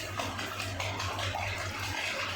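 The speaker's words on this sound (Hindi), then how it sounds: "तो बहुत ही तेज़ वाली बारिश आई थी आजकल" Heavy rain pouring down in a steady broadband hiss with a low rumbling undertone, continuous and fairly close, with no one talking.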